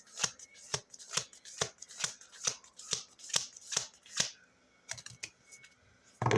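Tarot cards shuffled by hand during a full-deck reading, about ten crisp riffling bursts in a steady rhythm, close and fairly loud, then a few looser card flicks with no talking.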